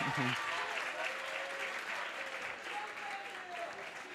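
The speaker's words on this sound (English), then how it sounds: "the ever-raucous student crowd here at Fairfield" Raucous student crowd cheering and clapping at a Fairfield home volleyball game on senior night, a loud, sustained roar of applause and shouts filling the gym, with scattered voices and a whistle-like cry audible within it.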